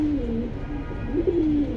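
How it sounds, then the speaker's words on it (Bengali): Pigeons cooing close by in a loft, soft low rolling coos repeating in short phrases over a faint background hum. "এখানে ধাপটির থেকে আপনাদেরকে কিছু কবুতর দেখাই শেষ করে দেবো।"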